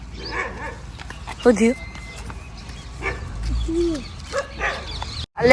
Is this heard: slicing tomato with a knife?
no